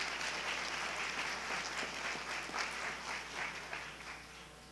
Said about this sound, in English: We can get a round of applause for all those schools.